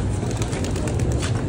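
Racing pigeons coo softly and repeatedly, close by, over a muffled low rumble of background noise, at night.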